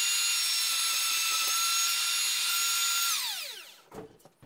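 A plunge router cutting a circle into wood whines at a high steady pitch, then spins down with a falling tone near the end, followed by a couple of brief knocks.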